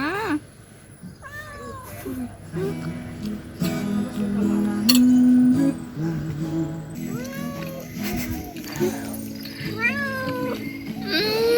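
A cat meows repeatedly while about to be given medicine, its rising, drawn-out cries close and fairly loud over a busy background with a voice talking at times.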